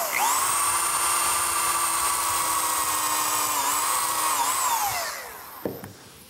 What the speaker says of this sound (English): I'm going to pre-drill for the screws using a combination drill countersink.